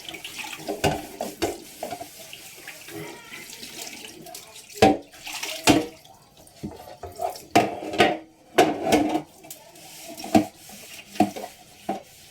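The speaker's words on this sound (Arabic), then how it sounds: "نفتح المية بس حاجة بسيطة كده، ننضف" Tap water runs into a sink while dishes and a tray are rinsed and wiped with a cloth and water only, the splashing and gushing rising and falling in uneven bursts with occasional clinks.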